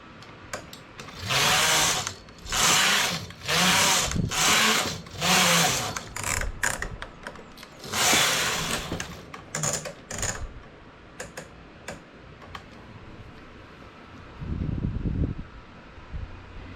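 A knitting machine carriage runs back and forth across the bed while making children's trousers, giving repeated loud sliding rasps about a second long with brief pauses between passes, then lighter clicks and a low thump near the end.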